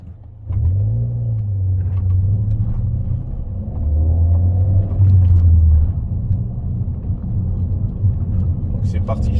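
A Peugeot 208 GTi fitted with a Pipercross air filter accelerates in two strong bursts, a deep, loud engine rumble swelling and easing back as someone talks over it.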